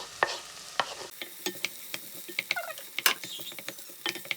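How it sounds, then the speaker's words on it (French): A spatula scrapes and taps in a pan while red pepper with onion is stirred, giving irregular close clicks and scrapes over a soft background sizzle. "نحركوه مزيان حتى يطيب"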